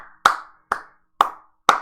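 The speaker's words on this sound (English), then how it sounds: "The one solo clap." Lone hand claps ring out in a hushed movie theater, four slow, evenly spaced claps, each sharp and crisp with a brief decay into silence, and no other voices or noise around them.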